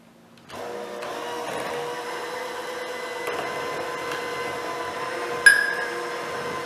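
Electric mixer whirring steadily as powdered sugar is blended into frosting a cup at a time for pumpkin bars, a continuous motor hum with a brief sharp clink near the end, no talking.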